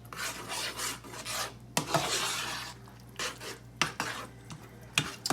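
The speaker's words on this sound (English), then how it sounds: "Let's stir that up." Food stirred in a pan for a light summer dinner gives a series of close scraping, rubbing strokes with brief clatters of utensil against metal, and a low steady hum runs underneath.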